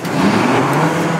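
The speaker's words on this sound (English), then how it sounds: "Quad tracks make such weird sounds when they start." A large quad-track tractor's diesel engine rumbles and roars steadily, loud and close, as it comes to life.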